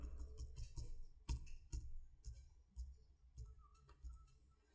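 Arrow keys on a computer keyboard are tapped repeatedly in quick, irregular clicks, quiet and close, with no other sound.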